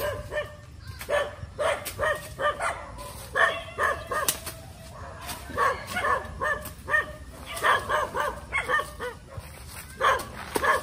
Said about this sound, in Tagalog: Ang dami nga lang aso.